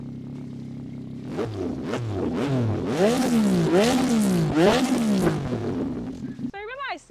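A Tracer 9 GT motorcycle engine revs repeatedly, rising and falling in pitch several times, loud and close, with a brief spoken word at the start.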